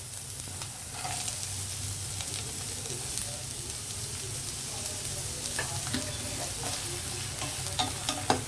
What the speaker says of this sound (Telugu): ఆయిల్ హీట్ అయిన వెంటనే ముందుగా మనము ఆనియన్ వేద్దాము